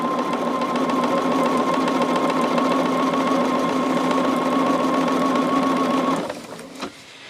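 A sewing machine runs steadily, stitching quilt fabric in one continuous near, loud whirring hum for about six seconds before stopping abruptly, followed by a brief click and quiet.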